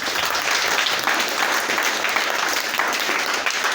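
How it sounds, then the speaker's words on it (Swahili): Church congregation applauding together, a dense, steady wash of clapping that stays loud and unbroken throughout. "Makofi kwa Yesu tafadhali."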